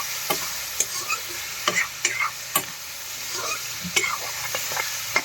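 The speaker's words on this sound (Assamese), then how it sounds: "আদা ৰহুন দি এতিয়া ভাজি আছোঁ মাংসটো।" Pork pieces frying with ginger and garlic in a pan, a steady sizzle broken by sharp scrapes and clatters of stirring at irregular intervals, close and fairly loud with no talk.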